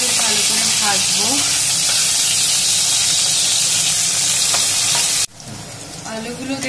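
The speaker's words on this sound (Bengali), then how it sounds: "এরপর আমি আলুগুলোকে ভালো করে ভাজবো" Potatoes for a broccoli and aloo sabji fry in a pan with a loud, close, continuous sizzle and occasional stirring scrapes, dropping suddenly to a quieter sizzle near the end.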